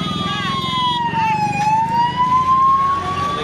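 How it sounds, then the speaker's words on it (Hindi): An ambulance siren wails close by on a road near the NH-2 highway through the Sherghati market, its tone sweeping down and back up over a steady bed of traffic and street noise. "देखिए एम्बुलेंस आ रहा है"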